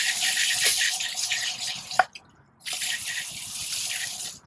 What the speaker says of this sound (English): let's hose it down with water.